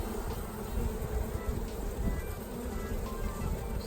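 A honey bee swarm buzzing steadily around a removal, a dense continuous drone close by, fairly faint overall with no talking.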